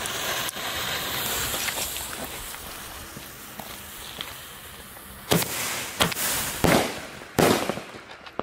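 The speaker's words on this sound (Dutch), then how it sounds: "Een zilveren mine met een best wel harde saluutknal." A Thunder King firework fires a silver mine: a long crackling, rushing hiss, then a run of four loud, sharp salute bangs spaced under a second apart, close and harsh.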